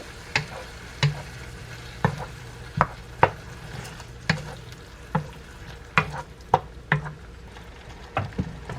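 A spoon stirs crushed tomatoes into a jambalaya pot, sharp knocks against the pot coming at an irregular pace over a soft, steady sizzle.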